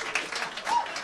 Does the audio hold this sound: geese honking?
no